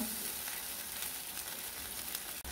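Spice masala sautéing in oil for an Akshaya Tritiya veg thali, a steady close hiss of frying with faint stirring scrapes, continuous and without speech.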